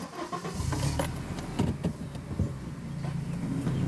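A modified Honda Element pulls away, its mid-pitched engine note and road rumble steady and close throughout, with no talking.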